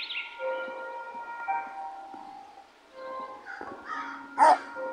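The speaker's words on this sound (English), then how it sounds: "Oh no, it's that dog. Oh no, he's barking." In the Bad Granny video game, a dog barks and yips in a few sharp, closely spaced bursts over tonal game sounds, with one louder bark near the end.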